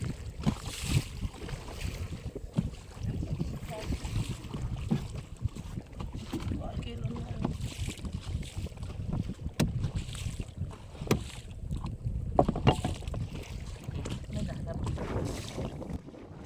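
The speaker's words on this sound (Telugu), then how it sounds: "తాడాట చేయడానికి మనమైతే చిన్న బోటు పైన వచ్చాము" A small fishing boat moving on open water, with a steady rumbling engine-and-water wash, wind buffeting the microphone and occasional sharper knocks throughout.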